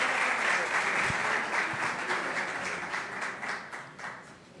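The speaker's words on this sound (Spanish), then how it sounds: "Aplauso." Applause from an audience at a ceremony honoring an inclusive actress and disability-rights advocate, steady dense clapping that starts loud and fades slightly toward the end.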